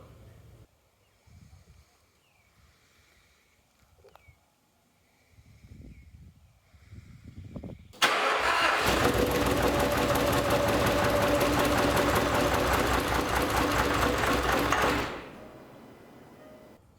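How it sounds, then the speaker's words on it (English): A Land Rover Discovery with catastrophic engine damage cranks, catches and roars loudly for about seven seconds, then stalls and cuts out. Quieter clunks and handling noises come first. "It almost starts, it'll run for a second or two, then it stalls out."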